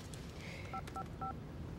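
A telephone number is dialed on a keypad phone, with three short touch-tone beeps spaced evenly over steady background hiss, fairly close and clear.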